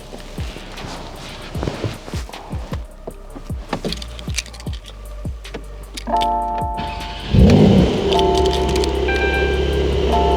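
A Porsche 911 Sport Classic cranks over after a series of clicks and metallic ticks, then catches with a loud flare of revs and settles into a steady, close idle.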